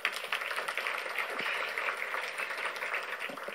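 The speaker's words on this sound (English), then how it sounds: "Can we give her a round of applause?" An audience at a college business panel applauding, a dense steady wash of many hands clapping that sustains throughout.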